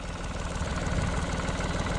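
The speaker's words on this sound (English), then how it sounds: "Tractor's just beating and a bouncing" A tractor engine works steadily as the machine crawls slowly over rough, freshly worked ground, its low pulsing beat and rattling vibration continuous and fairly close throughout.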